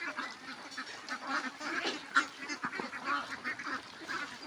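A flock of ducks on a duck farm beside a fish pond quacks and chatters continuously, many overlapping calls close by with no talking.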